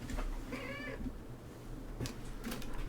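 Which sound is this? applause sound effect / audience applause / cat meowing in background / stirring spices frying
cat meowing in background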